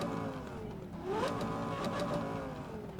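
A car engine in a Need for Speed video game hums steadily and then revs upward, the pitch rising and falling in smooth sweeps, fairly faint and without voices.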